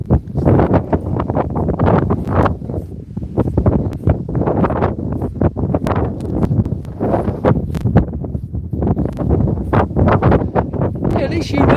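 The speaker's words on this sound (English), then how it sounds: "It's a bit windy now" Wind gusting through Frith Wood and Puplet Wood, buffeting the microphone with steady low rumble and rustle throughout, while a person talks over it.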